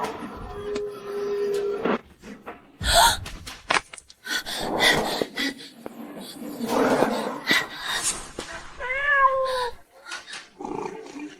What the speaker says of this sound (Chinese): 小心啊，小猫咪！